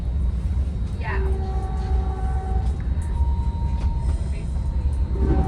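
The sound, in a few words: Caltrain 413 train passing by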